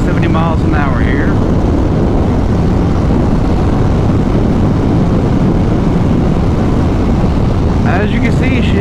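Harley-Davidson Sport Glide with Cobra 909 exhaust cruising at about 70 mph on a freeway, a steady loud rumble blended with heavy wind roar throughout, with a brief voice at the start and end.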